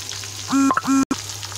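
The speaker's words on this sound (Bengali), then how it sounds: "আমি চুলায় তেল আর পেঁয়াজ দিয়ে দিয়েছি।" Onions fry in oil in a pan on the stove, a sizzling hiss beneath two short squeaky, tonal bursts near the middle, followed by a brief sharp cutoff.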